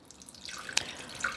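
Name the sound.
pouring freshly squeezed lemon juice into dressing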